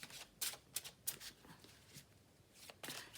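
A crystal guidance tarot deck is shuffled close up, giving soft, quick riffles and card flutters in short bursts at a low, quiet level.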